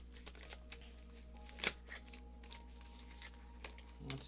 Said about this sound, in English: I'm going to shuffle and get one final message from Spirit for you